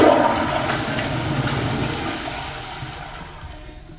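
A Kingston 1.6-gallon commercial toilet flushes with a loud, forceful rush of water right at the start. The swirling drain then gradually fades over a few seconds.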